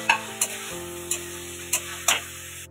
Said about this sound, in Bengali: মশলা দিয়ে তেল ছেড়ে দিয়েছে, এবার মশলার মধ্যে আমি আলু ভাজাগুলো ছেড়ে দিচ্ছি।